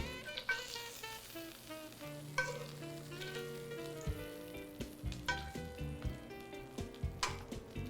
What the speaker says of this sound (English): we're getting the fat rendered out of this bacon right now